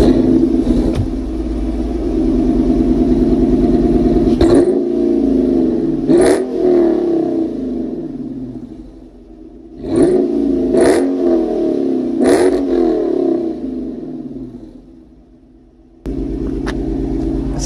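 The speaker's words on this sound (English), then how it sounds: "now let's get some exhaust revs." A Dodge Charger R/T engine with a new exhaust idles with a low rumble, then revs sharply several times, each rev rising and falling quickly through the exhaust.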